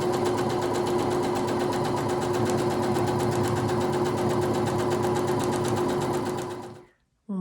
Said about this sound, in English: Now let's take it to the machine and sew on the lines to quilt this rectangle.